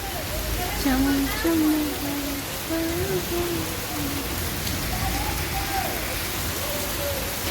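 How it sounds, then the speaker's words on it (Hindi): Steady rain hissing down, with a person talking over it throughout. "बारिश पड़ रही है"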